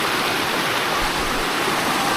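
River water flowing steadily at a recreation park campsite: a close, continuous rushing wash of broadband noise with no pauses and no voices.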